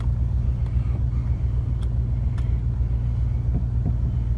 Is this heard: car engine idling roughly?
yes